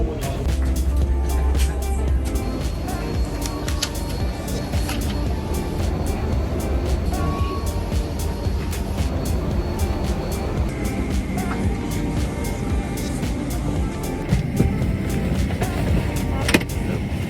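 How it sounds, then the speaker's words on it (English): Inside a cabin as an airplane taxis to the runway, a constant loud engine rumble and rolling noise runs the whole way, with scattered small rattles and clicks and no clear talk. "we taxied to the runway and used it just like intended."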